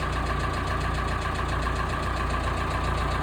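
A Massey Ferguson diesel tractor engine runs steadily at idle, a constant close rumble with a faint rhythmic knock and no breaks or speech.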